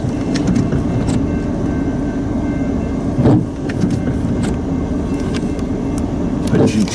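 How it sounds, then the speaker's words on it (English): A freight train of loaded tank cars carrying denatured alcohol rolls past close by, a loud continuous rumble broken by periodic wheel clanks, with someone talking over it. "Alright, the end of the train is coming, and it does have a buffer car on it because these are loaded denatured alcohol."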